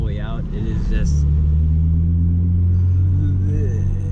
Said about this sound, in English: you got pops on overrun, just the visceral sound that you get up top when you rev it all the way out